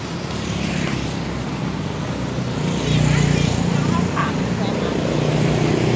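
A car drives along a road in Pakse, Laos, its engine and tyre noise forming a steady loud drone that swells midway, with a voice talking over it.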